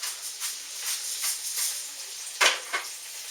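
Collard greens hit a pan over a ham hock and sizzle softly, with brief bursts of crackle and a couple of sharper stirring clatters near the end, no talk.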